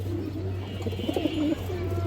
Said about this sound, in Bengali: দেখেন পিক একটা কবুতর মাসাল্লাহ দেখেন ডাকতেছে